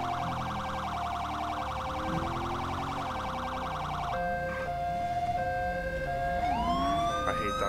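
A police car siren from the video game GTA V with the LSPDFR mod, loud and continuous, switching from a rapid yelping pattern to a slower wailing tone partway through over a low engine rumble.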